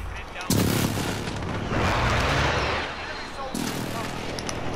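Precision airstrike explosions in a shooter game: a sudden heavy blast, then a broad roaring rumble lasting a couple of seconds, and another loud impact near the end, all close and powerful.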